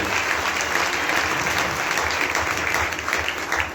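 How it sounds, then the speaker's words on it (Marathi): A church congregation at a Christmas service claps loudly and continuously, dense applause from many hands filling the room without letup. "जोरात टाळ्या वाजून प्रभू येशूला धन्यवाद द्या."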